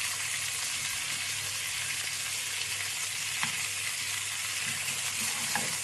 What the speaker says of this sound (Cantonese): 將我哋提前準備嘅皮蛋一齊放落去一齊煎